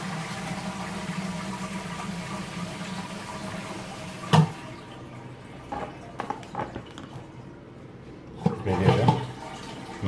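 A Geberit concealed toilet cistern flushes, water rushing steadily through the bowl for about four seconds before a sharp knock and a quieter drain. Later come a few small clicks and a second brief gurgling burst.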